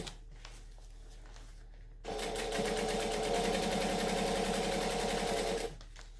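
A sewing machine runs a steady burst of stitching along a garment seam for about three and a half seconds, an even rapid mechanical whir that starts and stops abruptly against a quiet room.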